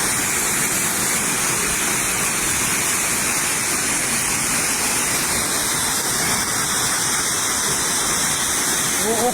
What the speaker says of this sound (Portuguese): As chuvas de maio de 2018 despencaram como uma cachoeira sobre a cidade grega de Salônica.